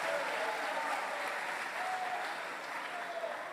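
Congregation applauding during a Spanish-language church sermon, a dense, even roar of clapping from a sizable crowd at moderate level, sustained throughout with no talk.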